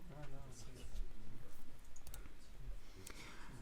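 Computer mouse clicks while working in Cavalry animation software, a few small sharp clicks scattered under a steady stream of French speech.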